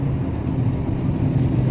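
Exhaust of a Geely Coolray held in first gear, a deep continuous low rumble with a throaty drone, close and steady throughout, with no talking.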